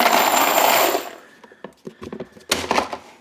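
A box of 800 decking screws tipped into a compact Milwaukee PACKOUT crate, starting with a loud, dense metallic rush that fades, then scattered clinks and knocks as the screws settle, closing on a second clattering burst.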